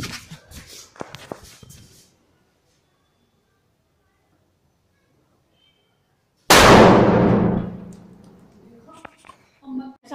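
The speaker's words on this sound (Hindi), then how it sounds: "ये जो हमारा लास्ट पटाखा है हम इसका टेस्ट करते हैं और देखते हैं फ्रेंड्स ये कितनी तेज फूटता है" A Diwali firecracker bursts with one sudden loud bang after several seconds of near silence, its blast decaying over a couple of seconds; scattered handling noises come before and after.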